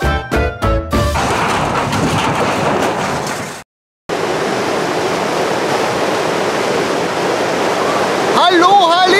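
High, fast water of the Große Tulln river near Neulengbach rushes loudly and continuously, a dense roar broken by a brief cut, with a few sharp knocks at the start and a voice-like tone near the end.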